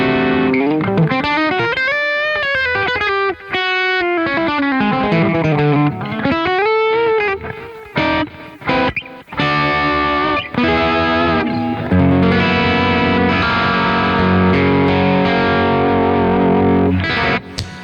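Electric guitar played through a Neural DSP Quad Cortex on a clean tone with some grit, loud and close, moving from melodic phrases to choppy stabs and then sustained strummed chords, with no talking.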